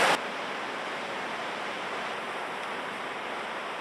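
A cold, icy river on the Pacific Crest Trail between Stevens Pass and Snoqualmie rushes steadily nearby, a dense, constant wash of flowing water with no break, after a brief louder burst at the very start.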